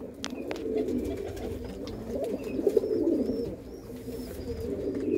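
Mirab pigeons with black eyes coo in a low, continuous murmuring chorus, steady and fairly close, with a few faint higher chirps above and no talking.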